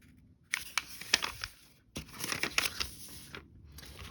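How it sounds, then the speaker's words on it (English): A sheet of paper folded in half lengthwise while making a house-shaped book, producing crisp crinkling and rustling in a few close bursts separated by short pauses. "And then I'm going to fold it in half lengthwise."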